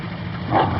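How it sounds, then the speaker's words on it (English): A single dog gives a short, muffled bark at middle distance, a brief yip rising over a steady background hiss. "What's the matter with the darn dog?"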